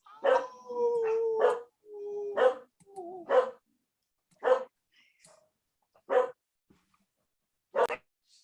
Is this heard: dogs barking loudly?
yes